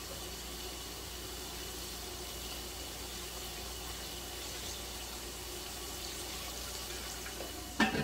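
Strained mutton yakhni stock pours into a cooking pot in a steady, soft, continuous liquid splash, with a brief clatter at the very end.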